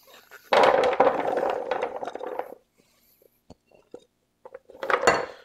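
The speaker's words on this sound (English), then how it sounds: "We're just going to pour this on a sheet pan." Diced butternut squash poured from a bowl onto a metal sheet pan, a loud rattling clatter of pieces on metal followed by quieter scattered clicks and a final burst of tumbling as it is spread.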